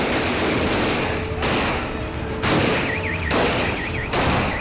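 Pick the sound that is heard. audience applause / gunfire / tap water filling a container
gunfire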